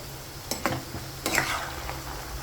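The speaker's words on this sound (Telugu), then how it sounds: "ఇప్పుడు మనం తీసుకుని ఒకసారి మళ్ళీ వేయించుకుందాము" Raw banana slices frying in a pan for a crispy stir-fry, stirred with a utensil: a few brief scraping strokes over a low, steady sizzle, close and fairly quiet, with no talking.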